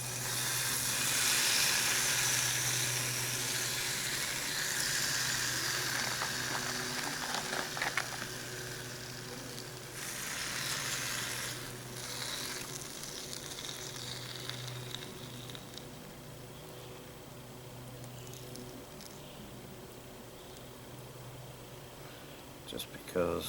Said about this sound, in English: I'm going to put 6 pieces of bacon in here this time.